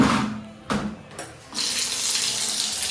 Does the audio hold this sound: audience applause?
no